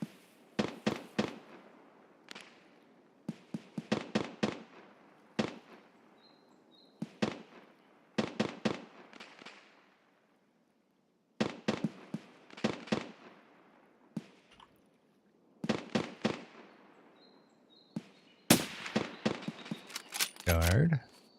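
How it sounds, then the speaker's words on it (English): Bursts of game gunfire in a military shooter, short rapid volleys separated by pauses, some single cracks, loud and fairly close, with occasional voices in the background. "I think they're shooting at the BTR"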